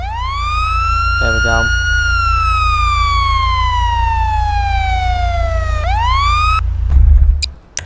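A GTA 5 police car siren in Garry's Mod wails loudly and close, rising and falling in long sweeps before cutting off abruptly, followed by a brief spoken remark.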